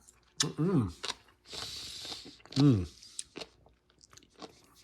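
Close crunchy chewing of crisp pickled daikon radish, several loud bites and munches in bursts, with mouth sounds and brief pauses between.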